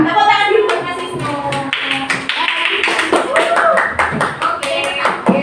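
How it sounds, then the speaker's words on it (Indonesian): Hands clapping in a classroom gathering, loud and close, with sharp irregular slaps and voices talking and calling out over the clapping. "Tepuk tangan dulu buat Mas Wisnu."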